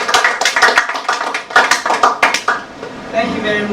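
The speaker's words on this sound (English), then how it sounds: "Please let's clap for them again." An audience claps after a presentation at a livestreamed fashion event, with loud, close clapping in bursts that taper off near the end under a faint murmur.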